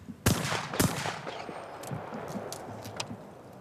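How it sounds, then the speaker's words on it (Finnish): Two sharp, loud shotgun blasts in quick succession at a skeet shooting championship, doubles fired at station four, followed by fading echoes and faint distant shots from the range. "Eli kaksi kaksoiskiekkoa ammutaan tältäkin paikalta."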